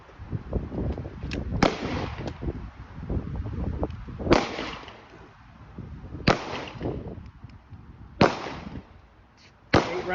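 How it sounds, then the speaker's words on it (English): Live gunfire from a firearm at a range: five sharp, loud cracks at irregular intervals of about two seconds, each followed by a brief decay, over a background of rustling and low noise. "Now we go live fire."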